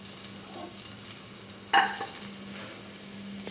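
Garlic pieces sautéed in a pan with a curried lentil and egg mixture give a steady soft sizzle and stirring scrape, with a sharper clatter of the utensil partway through.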